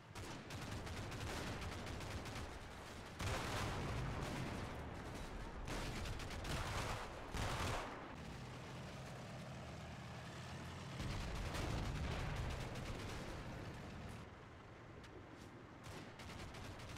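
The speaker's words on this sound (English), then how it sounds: "German spotting rounds landing around the battlefield" German artillery spotting rounds land around a battlefield in the Combat Mission: Fortress Italy war game, a string of distant rumbling booms and crackling impacts rising and falling over the whole stretch at low overall level.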